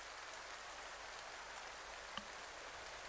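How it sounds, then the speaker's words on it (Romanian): Steady rain falls in the Euro Truck Simulator 2 truck-driving game, an even, constant hiss of drops with no breaks. One small tap stands out near the end, and no one speaks. "Mama, mai și plouă."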